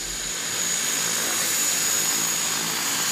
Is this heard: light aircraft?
yes